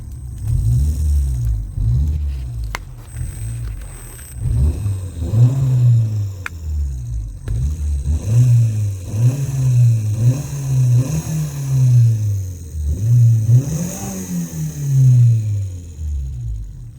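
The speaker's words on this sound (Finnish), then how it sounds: "kuuluu erittäin hyvin kaikki nuo moottoriäänet tähän nyt" A 1.2-litre 8-valve Fiat Punto Mk2 engine revs repeatedly under acceleration, rising and falling in pitch with a deep, close rumble, no talking over it.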